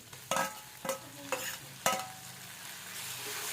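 Green chillies frying in a pan as a spoon stirs them, with four sharp stirring scrapes over a soft, steady sizzle, close by.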